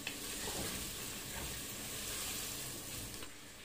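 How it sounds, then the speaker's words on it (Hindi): Thick-cut onion slices fry in half a cup of hot oil, giving a continuous, even sizzle and hiss with faint stirring; quiet, close and steady, with no one speaking. "तेल मैंने आधा कप तेल लिया है, उसमें मैं ये पूरी प्याज डाल रही हूँ।"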